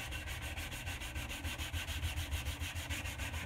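Sandpaper rubbing steadily up and down a wooden axe handle during hafting, a close, continuous rasping scrape with a regular back-and-forth rhythm and no talking.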